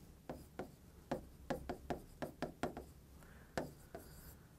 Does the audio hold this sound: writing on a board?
yes